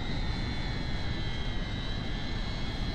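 A drone engine in a video game gives off a steady, whiny hum with a high-pitched tonal whine over a dense, even roar that holds at constant loudness throughout.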